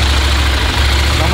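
A CFMoto motorcycle engine idling, a loud steady low rumble that fills the whole stretch, with voices talking over it.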